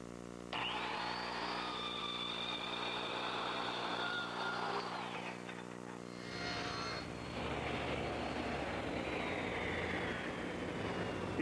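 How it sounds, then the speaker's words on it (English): A circular saw tilted to a 4-degree bevel and guided by a straight-edge clamp cuts through a wooden board, a steady loud whine running throughout with a brief change in tone about midway. "I'm using a straight edge clamp and my circular saw, which I've actually tipped to 4 degrees."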